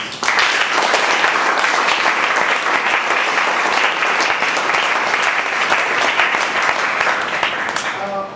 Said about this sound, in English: For that, a huge round of applause.